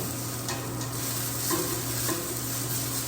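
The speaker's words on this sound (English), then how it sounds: "So our onions and celery are finishing up cooking." Onions and celery sizzle in a soup pot for chicken tortilla soup as they soften, making a steady, loud, close hiss broken by a few light stirring scrapes.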